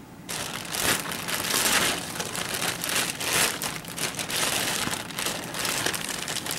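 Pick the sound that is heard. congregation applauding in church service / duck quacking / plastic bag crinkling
plastic bag crinkling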